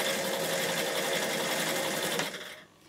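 A Bernina 840 sewing machine runs a zigzag stitch in one fast, steady close burst of rapid needle clatter that stops abruptly near the end.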